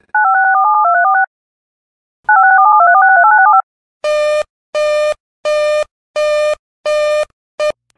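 Emergency Alert System warning sequence on a radio broadcast: two long warbling two-tone attention bursts, then a run of six clipped, buzzy data bursts at a steady rhythm, loud and clean with no talking.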